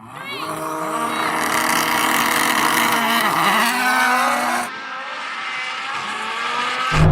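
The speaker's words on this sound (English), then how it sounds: "God, that rallycross car's good." A rallycross car's engine revs hard in a drag race, a loud, rising harmonic roar broken by quick gear-shift dips before dropping to a lower, steadier drone near the end.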